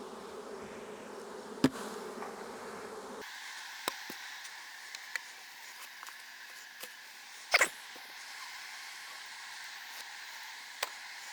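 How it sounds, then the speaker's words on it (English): Honey bees buzzing around hive frames during a nuc inspection, a steady close insect hum with a brief bump, a clack and a few sharp taps from handling the frames. "we've got all of these bees and 15 more frames of bees"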